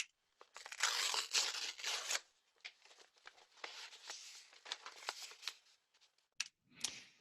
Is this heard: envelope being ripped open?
yes